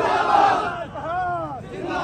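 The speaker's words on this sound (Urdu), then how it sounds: "وکلاء نے پولیس کے خلاف شدید نعرے بازی کی۔" A loud crowd of lawyers chants slogans against police at the gate of a district police office in Kasur, Pakistan, in rising and falling massed shouts.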